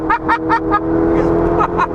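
A Ferrari 488 Spider's engine bounces off its rev limiter, giving a quick run of four sharp, rhythmic pulses at high revs before settling into a steady strained drone, loud and close from inside the car, with a voice briefly over it.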